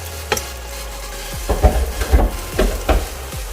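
Chicken rice (riz gras) sizzling in a pan as a utensil stirs it, with bursts of scraping and frying at irregular intervals over a steady crackle, close and fairly loud.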